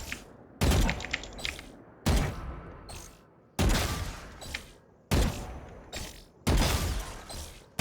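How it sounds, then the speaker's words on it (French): Rapid bursts of gunfire from target shooting in the video game Valorant, five loud sprays each lasting about a second, separated by brief gaps, with metallic echoing tails and no talking. "Je mets trop de temps en fait à tirer dessus."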